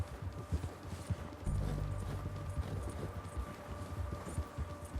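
Horse hooves clip-clop at a steady, even walking rhythm in Red Dead Redemption 2, moderately close against a low ambient backdrop with no talking.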